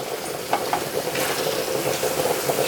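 Jamaican salt mackerel rundown simmering in coconut over low heat in a pan, giving a steady soft sizzle with a few light stirring knocks, close and constant.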